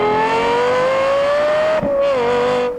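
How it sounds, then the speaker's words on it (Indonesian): Petrol car engine roaring loudly and continuously, its revs rising steadily with a brief dip near the end, close and alone without talk. "nggak akan ada mobil listrik yang bisa mengalahkan deruman mesin bensin kayak..."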